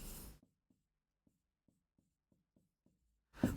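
A pen scratches on paper during math working, eight or so short, faint strokes spaced irregularly in near silence, with speech briefly at the start and end.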